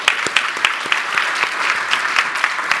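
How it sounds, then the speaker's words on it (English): Audience applause at a business school forum on investment in Africa, a steady wash of many hands clapping with a few sharper individual claps standing out, moderately loud and sustained throughout. "Please give him a round of applause."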